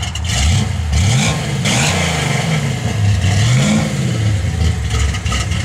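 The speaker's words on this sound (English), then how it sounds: "Give a little rev, Dale." A 1963 Plymouth Valiant's engine is revved several times, its note climbing and falling in repeated swells, loud and close with a rough mechanical clatter underneath.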